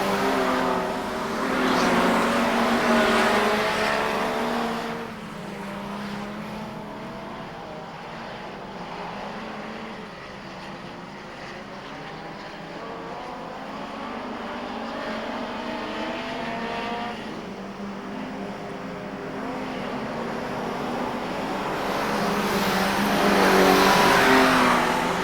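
Modified production race cars lap Carina Speedway in Queensland, with engines roaring loudly as they pass. The sound dips in the middle and then swells to a strong revving roar as the cars approach again.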